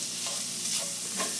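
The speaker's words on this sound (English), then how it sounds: "as it's browning, I just constantly keep taking it and crumbling it up" Sausage browning in a hot pan for milk sausage gravy, a dense continuous sizzle with soft scraping as the meat is crumbled, close and fairly loud.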